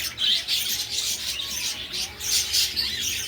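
Pet parakeets kept outdoors in hot weather squawk and chirp in a busy, overlapping chorus, with sharp bursts rising and falling close by and no talking.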